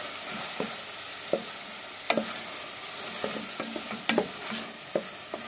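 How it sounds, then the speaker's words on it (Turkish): Onions frying with tomato paste in a pan while being stirred, giving a steady soft sizzle with scattered scraping clicks from the utensil, close up and with no talking. "Salçası ile birlikte soğanları güzelce kavuruyoruz."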